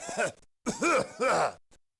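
A video game character coughs in three rough, throaty bursts with short pauses between, close and clear, followed by a faint trailing sound.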